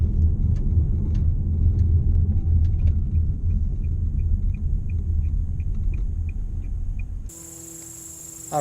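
A car driving near sunflower fields in rural Nebraska on a dove-hunting outing, a loud steady low rumble from inside the cabin with faint rhythmic ticking, cutting to a quieter hum near the end.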